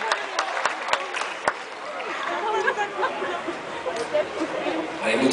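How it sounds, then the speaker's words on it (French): Audience applause rises from the stands at a course landaise, the traditional bull-leaping event held at Aire-sur-l'Adour, with steady clapping, crowd murmur and an announcer's voice over the arena. "Et des applaudissements pour Los Fayantes."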